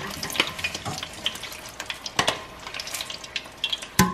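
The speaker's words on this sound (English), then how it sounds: "and we're frying it." Batter-coated Korean corn dogs sizzle and crackle in hot oil, a steady frying hiss broken by small pops and sharp clinks, close by.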